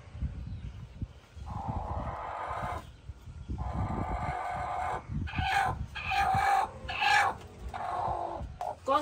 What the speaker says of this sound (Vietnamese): Con gì đây? Con gà.